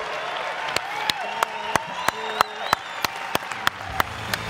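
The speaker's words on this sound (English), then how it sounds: "can we please give them a round of applause and tell them how much we appreciate their efforts?" A medical-talk audience gives a round of applause, with crisp, evenly paced claps over a murmuring wash of clapping and some faint voices underneath.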